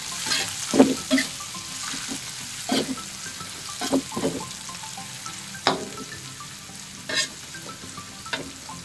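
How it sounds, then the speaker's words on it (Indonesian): Onion and spring onion sizzle steadily in a wok for vegetarian fried rice noodles while a spatula scrapes and clacks against the pan now and then, close and fairly loud, with no talk. "Tambahkan bawang bombay dan daun bawang. Juga sampai harum."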